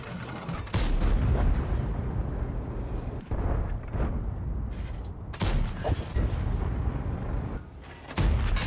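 Tank cannon fire in the World of Tanks game rings out as a series of loud, booming blasts with sharp onsets and rumbling tails, near and dense, several shots over a few seconds with no talk.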